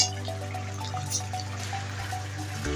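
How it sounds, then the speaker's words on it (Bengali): Water poured into a simmering meat curry makes a steady, moderately loud pour and trickle over a low hum, ending in a short thud near the end. "তো চলো জলটা ঢেলে দিই"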